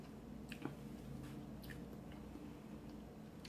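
Close, quiet chewing of a boiled egg during a spicy noodle meal, with soft squishy mouth sounds and small wet clicks over a low steady room hum, no talking.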